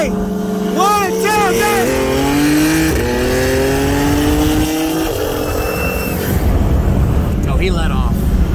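A 2018 BMW 340i with downpipes and a 2011 BMW 335is with eBay 19T turbos on E85 rev and accelerate in a race, with loud rising and falling engine notes stepping through gears while people talk over them.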